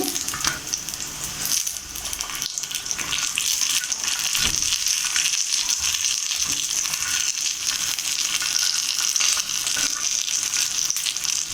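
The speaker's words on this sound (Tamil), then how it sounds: "ஃபிஷ் ஃப்ரை நல்லா ரோஸ்ட் ஆகி வந்துடுச்சு." Spicy masala fish fries in hot oil with a dense, steady sizzle and crackle that fills the whole stretch at close range, with no voices.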